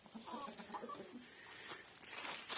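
Chickens cluck in short, soft bursts, a few birds calling in quick succession at a modest distance.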